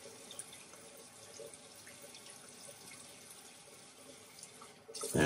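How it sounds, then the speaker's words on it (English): Tap water runs into a shaving brush while it lathers an Arko shaving stick: a faint, steady trickle with small splashes, quiet and close, that grows louder in a brief rush at the end. "So here I'm adding some more water."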